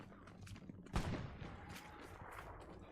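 Gunfire from a World War I trench shooter game set on the French front, a sharp shot near the one-second mark followed by scattered distant reports over a murky, rumbling ambience.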